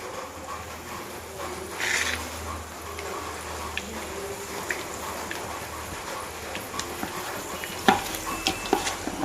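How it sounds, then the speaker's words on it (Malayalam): Crab frying in a pan as it is roasted with masala, giving a low steady sizzle under scraping stirs and scattered clicks, moderately quiet and close, with no talk. "ഞണ്ട് റോസ്റ്റ് ചെയ്ത് നമ്മുടെ ഞണ്ടങ്ങ് വറക്കാം"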